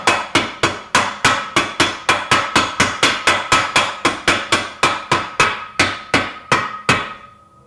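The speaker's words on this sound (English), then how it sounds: "Rubber hammer." A rubber mallet strikes repeatedly in a fast, even rhythm, about twenty loud, close blows in a row, slowing slightly at the end, during Moto Guzzi Eldorado motor assembly.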